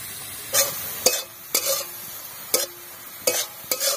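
Chicken pieces seasoned with salt and turmeric fry in hot oil with a steady sizzle, broken by sharp scraping stirs of a utensil roughly every half second; no one speaks.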